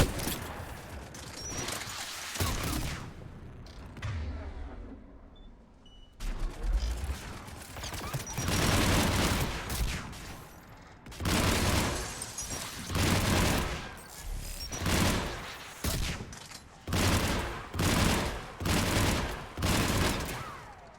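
Rifle fire in Mass Effect Legendary Edition, repeated bursts of rapid gunshots with short gaps between them, loud and close, with mechanical clicks and a brief quieter lull partway through.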